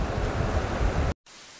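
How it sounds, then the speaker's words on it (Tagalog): Dense, rumbling wash of heavy rain, steady and loud, cutting off abruptly to near silence before a faint hiss returns. "hindi ko alam kung nakaka-apekto sa audio natin yung tunog ng ulan"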